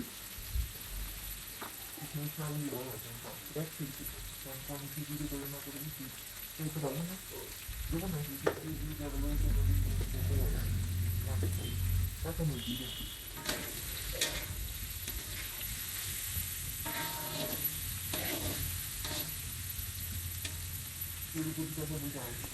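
Green chillies, about a cup, frying in hot oil for a fasting-day sabu pulao, with a steady close sizzle, occasional stirring clatter and some voices talking over it.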